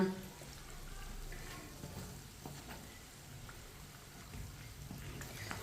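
Aloo samosas fry in a pan of hot oil and are flipped over, giving a steady soft sizzle with faint scraping and light clatter from the turning.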